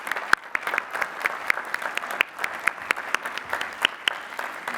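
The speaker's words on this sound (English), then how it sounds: "Please recognize the Bachelor of Science degree recipients with our hearty congratulations and applause." Scattered, sparse clapping from a small crowd greets Bachelor of Science degree recipients at a university spring commencement, with distinct individual claps landing in an uneven rhythm.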